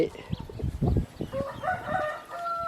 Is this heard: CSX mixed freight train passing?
no